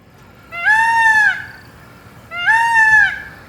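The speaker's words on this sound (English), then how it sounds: "I'm not sure how the peacocks came to be in Souris." Two loud, drawn-out nasal wails ring out close by, one after another with a pause between, the harsh honking call of a peacock in Souris, Manitoba.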